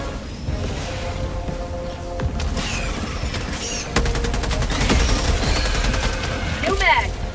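An automated sentry turret in Helldivers 2 fires near an extraction point, with rapid bursts building from scattered shots to sustained fire alongside explosions and whooshes.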